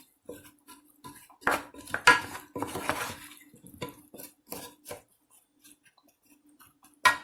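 A utensil scrapes and clacks in a Copper Chef pan as a potato casserole with Parmesan cheese is mixed, irregular close knocks and stirring scrapes separated by short pauses.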